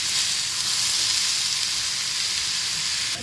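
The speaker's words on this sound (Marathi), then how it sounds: "आता मसाला चांगला भाजून घ्यायचा आपल्याला." Masala with onion and tomato roasting in a pan, a close, continuous hissing sizzle that stays loud and steady throughout.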